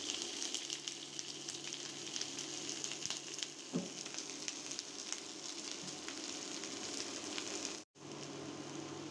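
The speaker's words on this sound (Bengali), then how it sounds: "শুকনা মরিচ, আদা কুচি আর পেঁয়াজ দিয়ে দিচ্ছি সরিষার তেল।" Dried chili, chopped ginger and onion sizzle steadily in hot mustard oil for a home-cooked chickpea dish, a close, continuous crackling fry with a brief soft stir and a momentary drop-out near the end.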